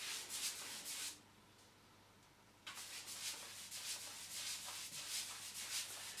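A brush works Zinsser Gardz sealer onto plasterboard in soft, close scrubbing strokes that stop briefly, then resume with steady rhythmic rubbing.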